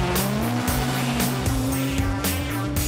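DTM race car driven hard by Nico Rosberg on a taxi ride, engine loud and close from inside the cabin, revving through rapid gear changes with tire squeal.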